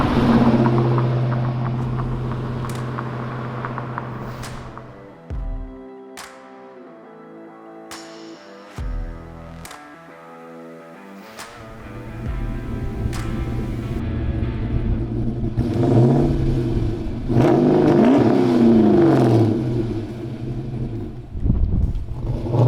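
A 1968 Oldsmobile 442 restomod with an LS3 V8 engine runs close by, idling with a deep rumble and then revving in several rising bursts, with brief pauses between throttle blips.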